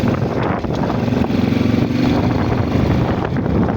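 A motorcycle engine idles close by after repairs for misfiring, a loud steady rumbling chug that holds at a constant level with slight pulsing throughout.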